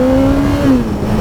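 A Kawasaki ZX-14R's engine holds a loud, close, tonal drone that pitches up slightly and then wavers as traction control intervenes under hard acceleration.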